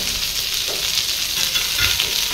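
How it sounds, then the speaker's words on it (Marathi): Coriander leaves are sautéed with masala in a pan for a black-eyed pea amti, giving a steady, close hissing sizzle with faint stirring underneath. "कोथिंबीर पण चांगली परतून घ्यायची त्याला, त्या मसाल्यासोबतच सगळं."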